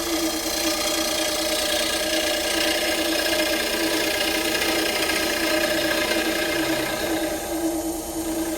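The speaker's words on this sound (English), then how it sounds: "I'm going to take the small scraper and just run around there," A small scraper cutting the inside of a wooden bowl spinning on a lathe, taking down high spots; a steady scraping rasp over the motor's constant hum, moderately loud, with no talk.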